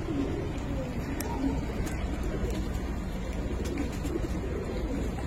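Pigeons at a market stall coo repeatedly in soft low rolling calls, near and steady against a busy background hum, with a voice briefly audible.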